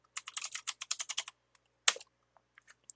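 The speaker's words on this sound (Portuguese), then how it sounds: "Digito a linha de texto." Quick bursts of keystrokes on a computer keyboard as a line of text is typed, a rapid run of close clicks followed by a single heavier key press and a few scattered taps, quiet with no talk.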